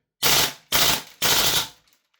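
Double Eagle Daniel Defense MK18 gas blowback airsoft rifle firing three loud, close shots in quick succession, each a sharp crack with a hissing gas tail, the last one a bit longer.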